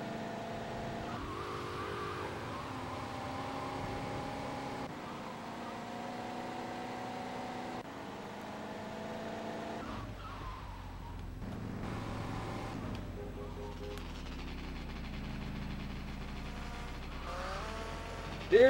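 A car engine in GTA Vice City Stories, droning at a moderate level and shifting pitch as the car accelerates and slows, with a brief burst of tire noise partway through.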